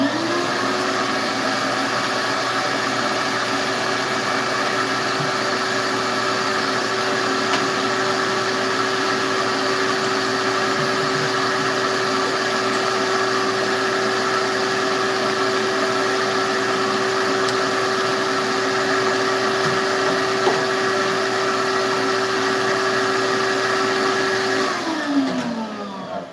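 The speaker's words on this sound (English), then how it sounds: "I should vacuum." A vacuum cleaner drones steadily and loudly in a woodworking shop dusted with pink sawdust, its motor whine holding even before shutting off near the end.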